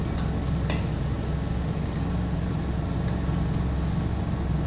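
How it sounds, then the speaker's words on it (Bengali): Ground turmeric, cumin, coriander powder and salt sizzle steadily as they fry and are stirred in a pan for a fish-egg fritter and potato curry, a dense continuous crackle with faint scraping. "এবার এই মশলাটাকেও ভালো করে ভেজে নেব।"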